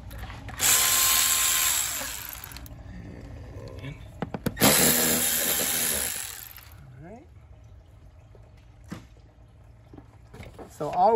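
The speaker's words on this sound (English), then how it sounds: "remove my turbo piping. That's the intake turbo piping. And it's a 7mm or a flat blade screwdriver." Loosening the intake turbo piping clamp on a Chevy Cruze with a 7mm driver or flat-blade screwdriver gives two bursts of whirring tool noise, followed by quieter clicks and handling sounds with occasional talk.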